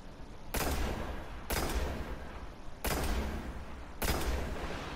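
Gunfire against a sniper in Destiny: four evenly spaced, fairly quiet bursts of rapid shots, each a sharp broadband volley followed by a lingering tail, with no speech.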